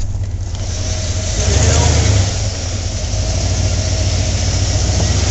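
Vehicle engine pulling slowly up an off-road hill, a low steady idle-like drone with a brief swell of throttle, heard close beneath someone talking.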